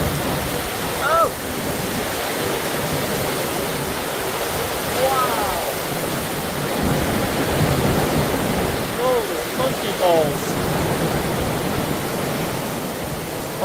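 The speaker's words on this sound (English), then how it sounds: "This is crazy rain." Heavy, cold rain pours down in a steady, loud wash of noise with no letup, while excited voices exclaim over it at intervals.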